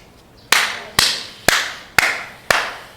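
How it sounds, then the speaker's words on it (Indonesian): Sharp claps at a podcast, five or six loud, evenly spaced strikes about half a second apart, close by with a quiet room between them and no talking. "Loh, tepuk tangan loh."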